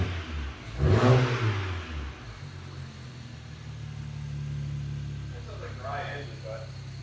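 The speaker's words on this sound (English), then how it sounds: "Give it a little rev." BMW 335i engine given a quick rev, a brief rising then falling roar near the start, followed by a steady idle hum with people talking nearby.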